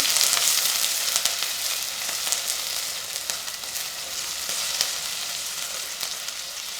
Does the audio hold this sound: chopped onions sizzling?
yes